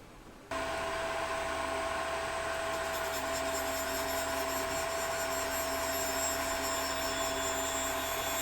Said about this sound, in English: here I have the valve grinder set up to grind the valves